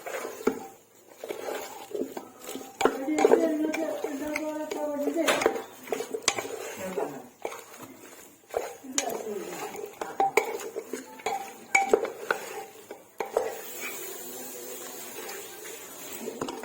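Meat and spices being mixed by hand in a pot for Kerala-style meat pickle, with repeated scraping, clinking and sloshing of metal cookware at close range, busy and irregular throughout with brief pauses.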